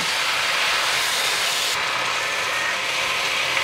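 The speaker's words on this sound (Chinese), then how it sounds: "一直不停的翻炒，一直炒到它呈现半透明的状态" Cabbage stems and fish stirred continuously in a wok, a steady broadband sizzle and hiss with scraping, loud and close, running unbroken with no voices.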